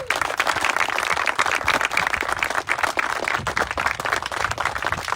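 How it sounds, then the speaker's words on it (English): Audience applause at a US Coast Guard groundbreaking ceremony for a renewable energy microgrid, a steady wash of many hands clapping at moderate loudness for about five seconds with no talk. "How about a round of applause just for Todd and his team?"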